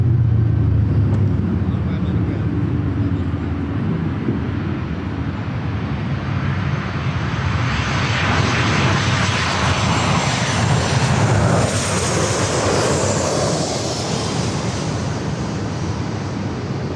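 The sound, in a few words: Delta Airlines Boeing 757-300 jet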